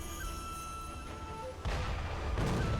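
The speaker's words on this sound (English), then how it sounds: "Yeah, somebody else did fire a cannon." In Sekiro: Shadows Die Twice, a cannon booms partway through, a deep low blast that rises over the steady game ambience and lingers as a second rumbling hit follows.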